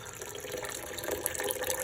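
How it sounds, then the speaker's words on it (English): Six cups of water poured into a cooking pot already holding maple syrup, a steady soft splashing stream heard faintly and continuously. "So I'm now gonna add 6 cups of water"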